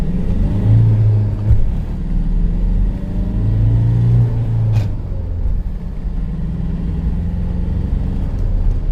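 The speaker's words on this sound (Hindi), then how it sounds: "अब यहाँ पे मैं आपको ब्रेकर के बाद में 1st गियर एंगेज करके थोड़ा सा इसका पिकअप दिखाता हूँ" An old Tata Safari SUV engine rumbles low and steady, rising into a revving pull as it accelerates in first gear in city traffic, with constant road and cabin drone throughout.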